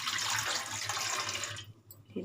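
Water poured into an idli steamer pot, a bright gushing pour lasting about a second and a half, then stopping abruptly before a faint knock.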